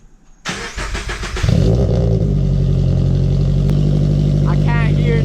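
A Subaru BRZ fitted with a Tomei header and front pipe cranks briefly, then fires and settles into a loud, raspy idle that holds steady, recorded close with faint voices.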